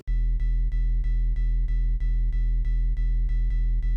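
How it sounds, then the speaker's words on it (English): A deep, steady Phase Plant sub bass synth tone pulsing in even repeated notes, loud and dry, playing alone. "The first one is the sub bass and it's a phase plant patch and it sounds like this."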